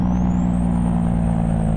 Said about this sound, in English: Jake brake?